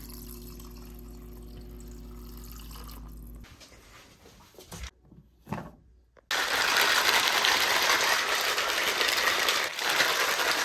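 Water from a tap gushes into a water bottle in a steady, loud, hissing stream after a few quiet handling knocks, running on without a break.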